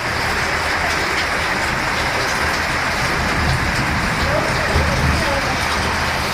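Heavy rain pouring steadily after an hour-long downpour near Thuraiyur in Tiruchirappalli district, Tamil Nadu, a dense continuous hiss of drops on surfaces with no break throughout.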